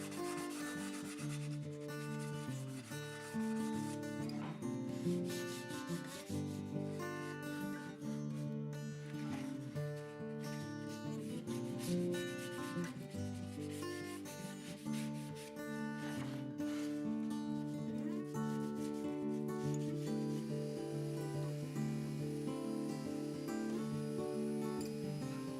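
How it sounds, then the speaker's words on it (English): Continuous rubbing and sanding on a wooden heirloom game case, heard faintly under steady background music. "There was some sanding, some more sanding, some sanding again, and again, and again,"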